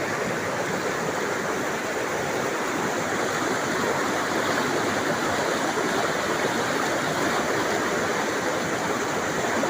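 A waterfall beside a church in a rural village in Nanga Taman roars as a steady, dense wash of falling water, loud and continuous with no voices.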